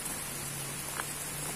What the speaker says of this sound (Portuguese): debaixo dessa chuva